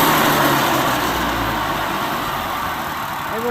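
A two-stroke engine with a freshly cleaned, previously gummed-up carburetor idles low and steady nearby, a continuous loud drone with a slight pulse.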